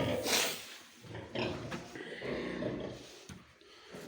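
A sow on a farm gives a few low grunts and snorty calls at moderate distance, uneven and broken by short pauses.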